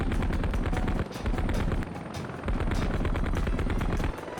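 A helicopter gun fires in bursts of rapid automatic rounds in the Heliborne video game, loud and close, broken by brief pauses, over a low rotor rumble.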